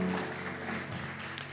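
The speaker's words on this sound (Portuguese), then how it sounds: "Dê uma salva de palmas para Jesus" Church congregation breaking into applause at a Sunday communion service, a steady, dense wash of many hands clapping together at moderate volume for the whole brief moment.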